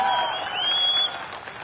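An audience at a spiritual talk claps together in a dense, even burst that thins out after about a second, with a faint tone riding above the applause.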